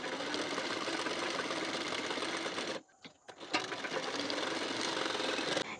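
Sewing machine stitching the shoulder seam of a blouse, a fast steady mechanical whirr that stops briefly for about a second, then starts again and runs on, close up and fairly quiet.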